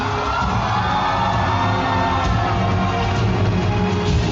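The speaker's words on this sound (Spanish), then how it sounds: "Un fuerte aplauso para nuestra reina." A large crowd cheers and whoops for the newly crowned queen at the Miss Universe Costa Rica 2025 final, a loud continuous roar of voices and applause blending into a dense wash of sound that holds steady throughout.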